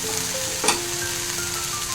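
Raw banana with coconut fries in a pan, giving a low steady sizzle throughout with one brief louder crackle or stir partway through, close and fairly quiet.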